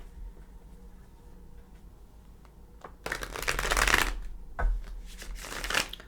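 Cosmic Tarot cards shuffled close up, starting faint, then breaking into loud, dense riffling bursts in two or three waves, with no talking.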